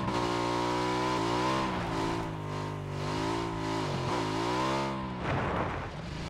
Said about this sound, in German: Ich muss das Bike mal eben kurz rummanövrieren hier drin.